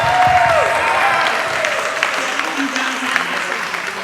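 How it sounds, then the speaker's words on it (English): An audience at a women's wellness event applauds a physician, a strong burst of clapping with some crowd murmur that stays fairly steady and slowly eases over a few seconds. "we need to give him a round of applause"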